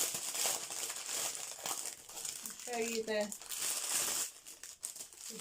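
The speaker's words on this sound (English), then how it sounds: "sorry for the crinkle" Plastic packaging from an eBay diamond painting kit crinkles steadily at close range, running under a woman's speech.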